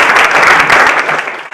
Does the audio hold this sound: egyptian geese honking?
no